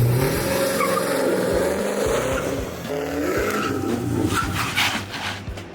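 2014 Chevy Caprice PPV ex-police car with a 6-liter V8 and 180,000 miles, driving with a steady, loud engine drone and road and tire noise throughout.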